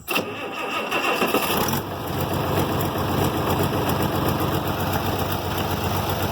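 A cold Farmall 706 tractor engine cranks and catches, then settles into a loud, close, rough idle with a steady rapid chugging pulse.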